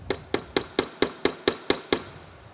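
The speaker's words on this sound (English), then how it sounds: "So you can use the flat face of your hammer." The flat face of a hammer strikes a leather rivet nine times in an even, steady rhythm. Each blow is sharp, close and distinct, with no voices.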